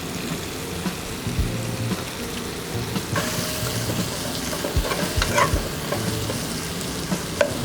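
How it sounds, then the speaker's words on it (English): Shrimp in their shells sear in smoky hickory bacon fat, giving a loud, steady sizzle and crackle with spatula scrapes and stirring knocks running throughout. "our bacon fat is nice and smoky and delicious, we are going to then add our shrimp"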